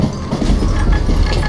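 A train rolls along rails in the Western shooter game Call of Juarez: Gunslinger, producing a loud, dense rumble with rhythmic clattering close by, and no voices over it.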